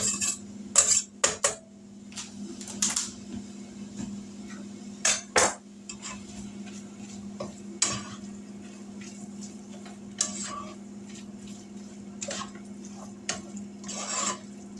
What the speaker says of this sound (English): about half a small onion, and I chop it up really fine